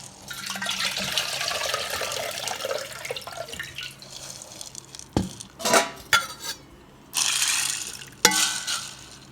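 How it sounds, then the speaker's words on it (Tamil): Green peas being rinsed in water in a kitchen vessel for chapathi kurma, with close splashing, sloshing and clinking of metal dishes in irregular bursts, no talking. "ஒரு அலசிட்டு ஊற போட்டுருவோம்."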